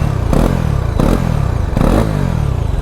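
Bajaj Pulsar NS 400Z motorcycle engine revving hard while ridden, three sharp rising bursts of throttle spaced about a second apart, loud and close over steady engine drone.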